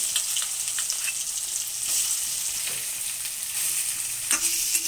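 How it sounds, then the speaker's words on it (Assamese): Soybean chunks coated in turmeric and salt fry in a pan with a steady, bright sizzle, broken by a few scraping stirs and the occasional louder crackle, close and with no talk. "হালধি নিমখ দি মাখা সোয়াবিনখিনি ভাজি ল'ম।"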